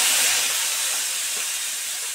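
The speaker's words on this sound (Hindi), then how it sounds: "अब इसमें हम ये प्याज, लहसुन, अदरक, टमाटर जो हमने पीस के रखा था वो मैं इसमें डाल" Ground onion, garlic, ginger and tomato paste hit a hot pan after cumin, giving a loud, steady, close hiss of sizzling that fades slightly and runs on without a break.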